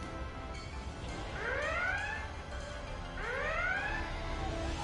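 A Star Trek starship's red alert alarm gives two rising, whooping electronic tones about two seconds apart. They sound over a low engine-like hum, with no voices.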